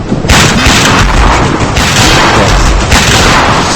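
Rapid, loud bursts of gunfire in the video game Notoriety, dense overlapping shots and booms filling the moment with no pauses.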